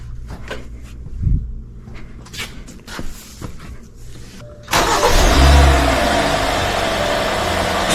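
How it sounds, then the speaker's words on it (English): Hyundai Sonata with a replaced intake manifold: a few clunks and rustles, then the engine cranks and catches, settling into a loud, steady idle nearby. "I'm gonna go in the vehicle and start the engine."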